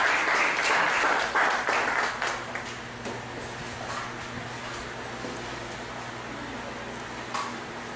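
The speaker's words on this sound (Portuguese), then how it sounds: "nossa salva de palmas para Ele?" Congregation in a church service applauding, with dense clapping loudest at the start and fading into a softer, steady patter.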